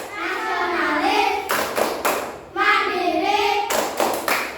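Group of children and teachers clapping the Tepuk PPK chant at a school, sharp unison claps in quick rhythmic bursts between stretches of chanted voices.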